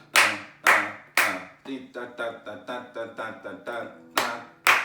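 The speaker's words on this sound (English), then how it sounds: "clap, clap. Clap, clap, clap." Sharp, close hand claps come in short groups at the start and end of a sing-along groove for kids, with a voice singing wordless syllables in the gap between them.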